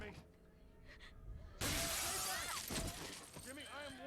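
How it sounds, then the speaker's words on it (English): A glass door shatters in the video game The Last of Us, a sudden loud crash of breaking glass after a quieter stretch, followed by scattered debris and a voice. "your neighbor headbutting the glass door"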